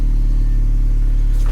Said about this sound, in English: we're just going to leave the car idling